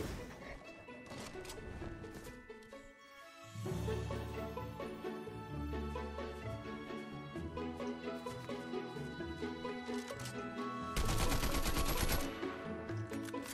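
Gunfire from common-rarity weapons in the Fortnite video game: dense repeated shots and bursts across a busy game mix, growing louder near the end with a sharp crashing flurry.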